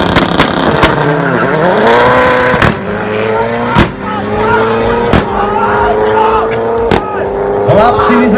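An Audi sprints at a tuning party held on an airfield at Piešťany. Its loud engine revs climb sharply through a series of gear changes with sharp shift pops, heard close and powerful.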